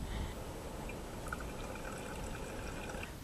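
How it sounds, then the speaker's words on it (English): Water is poured through a bandana filter into a container, giving a soft, steady pouring and trickling sound that runs continuously and fairly quietly. "the next step then is to pour the water through the bandana"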